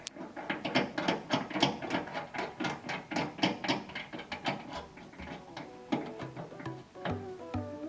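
A fuel regulator being mounted on a 1969 Camaro, close rapid ratcheting clicks in quick rhythmic bursts from a hand ratchet tightening fasteners, followed by a few slower metallic taps, no talking.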